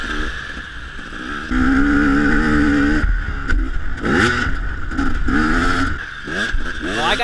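A motorcycle engine in a winter scramble race revs hard as the throttle opens, its loud, close, fluctuating whine rising and falling over several seconds with brief dips between throttle bursts.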